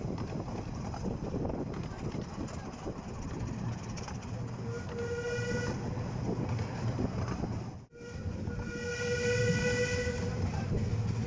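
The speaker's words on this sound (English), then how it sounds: "Keep in all the whistles that the engine made, both going there and coming back." A Ravenglass & Eskdale Railway steam engine sounds its whistle in two sustained blasts over rumbling train running noise, with a short drop in the din between them.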